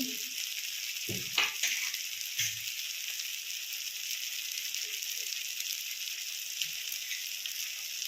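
Potol (pointed gourd) curry with turmeric, salt and sugar sautéing in oil in a pan, giving a steady soft sizzle throughout with a few brief stirring scrapes, fairly quiet and close.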